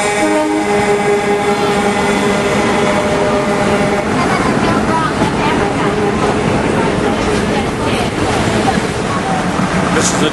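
A loud, steady rumble of a moving train fills the space, with rushing wash-like noise and shifting tones throughout, like riding inside a rail car.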